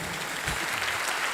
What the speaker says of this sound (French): Et donc applaudissez pour la vie de ces gens-là.